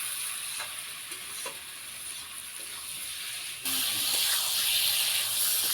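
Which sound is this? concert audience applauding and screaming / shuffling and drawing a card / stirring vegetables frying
stirring vegetables frying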